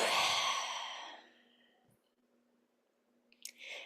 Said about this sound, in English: yawn it out